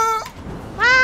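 A cat in GTA Online meows twice after being hit, two close, loud, short meows separated by a brief gap.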